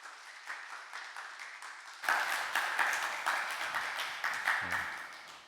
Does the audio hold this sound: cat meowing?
no